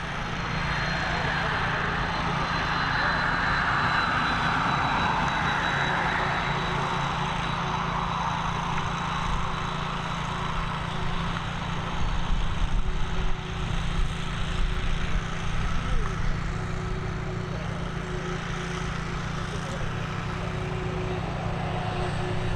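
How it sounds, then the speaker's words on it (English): A Boeing 767 jet at Dublin Airport gives a continuous loud engine roar with a steady whining tone that swells and then slowly fades over about twenty seconds, while a person talks over it. "this Boeing 767 heading over to Stansted"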